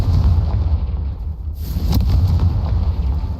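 Confringo fire spell explosion in Hogwarts Legacy, a loud, sustained booming rumble with heavy low-end roar that swells again midway, with no talk.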